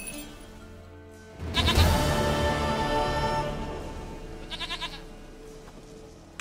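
A goat bleats loudly and up close in The Witcher 3, a burst of wavering bleats followed by a shorter trailing cry over a soft ambient game background.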